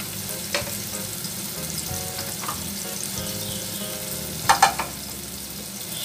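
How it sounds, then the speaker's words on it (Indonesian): Leeks sautéing in a little oil in a pot give a steady soft sizzle, broken by a few sharp clicks and stirring scrapes near the end, no talking. "Kita beri sedikit minyak. Ini kita akan pakai untuk menumis bawang pre."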